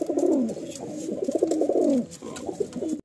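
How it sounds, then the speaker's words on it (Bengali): Two male Madrasi pigeons coo in a loft, a loud, close stream of throaty, rolling coos that repeats with brief pauses and nearly fills the stretch. "এই দুটো পায়রা দেখুন আপনারা, দুটোই মেল, খুবই অ্যাক্টিভ।"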